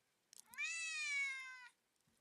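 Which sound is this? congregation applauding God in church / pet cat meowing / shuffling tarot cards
pet cat meowing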